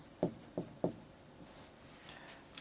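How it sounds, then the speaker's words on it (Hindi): Pen or chalk writing the word radius on a board during a chemistry class, three short scratchy strokes followed by a brief hiss and faint light marks, with no talk. "त्रिज्या लिखते हैं इधर"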